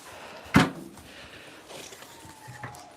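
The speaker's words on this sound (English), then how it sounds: "I'm gonna have to close the door up." A barn door is shut on a cold day. It makes one close, heavy thud early on, followed by faint rustling and quiet background.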